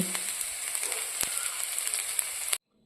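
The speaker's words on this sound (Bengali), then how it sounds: "আর একে একে আমি সব সবজিগুলো এবার ভেজে নিচ্ছি" Vegetables fry in a pan with a continuous bright sizzle and scattered crackles, close and steady, then it cuts off abruptly just before the end.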